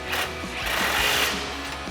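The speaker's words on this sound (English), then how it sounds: "we'll tighten down our sway bar end leg nut, or 18 millimeter socket" An 18 millimeter socket on a ratchet tightens the sway bar end link nut on a RAM 1500 front suspension, a loud continuous rapid buzzing rattle heard up close.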